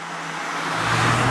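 A 2013 Mazda MX-5 Club on a road gives a steady, close engine and tire roar that swells slightly louder as it goes, with no voices.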